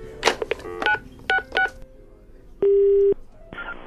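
A short run of telephone keypad tones beeps quickly, then two longer steady tones sound down the line.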